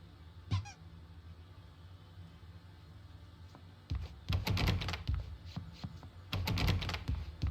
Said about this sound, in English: Now, you might have noticed the typewriter in your room.